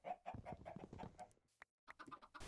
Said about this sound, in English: Dumbass chicken is trying to get out.